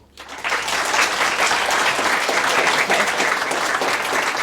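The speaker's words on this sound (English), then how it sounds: "a big Ball State welcome and a loud round of applause for an extraordinary storyteller, Lisa Krantz" Audience applause fills the hall at a Ball State lecture, welcoming a visual storytelling speaker to the stage; steady, dense clapping rises quickly after a brief quiet start and holds loud throughout.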